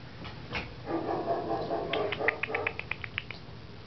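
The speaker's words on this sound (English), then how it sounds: "Who's barking, Blitzen?" A few short, sharp dog barks in a quick run, fairly near, following some faint whimpering and rustling.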